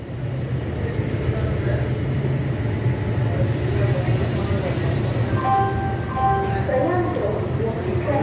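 A train at Lingampalli railway station at night, a continuous low rumble and hum with a public address announcement carried over the noise, and steady tones coming in toward the end.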